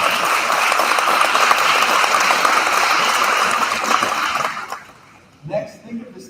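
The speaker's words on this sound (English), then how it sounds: "All the graduates, give them a round of applause." Audience applause for graduates at the Arcanum 2023 graduation ceremony: dense, loud clapping from a large crowd that holds steady for about four seconds, then fades out into scattered claps and a few voices.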